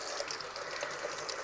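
Potatoes are washed by hand under running cold tap water, a steady close rush and splash with faint gritty rubbing, no voices.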